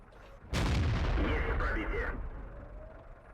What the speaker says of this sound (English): A nice meaty shot into the VK there.